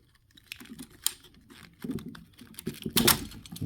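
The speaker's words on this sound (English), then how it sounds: "I'm cutting the plastic" Plastic shrink wrap being cut open on a rack-style 96-cell A123 26650 LiFePO4 battery pack: close, irregular crackly snips and ticks, growing busier and louder toward the end, with no talking.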